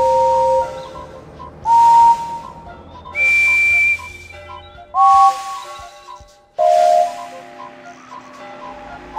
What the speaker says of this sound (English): One of these whistles sounds like Henry's.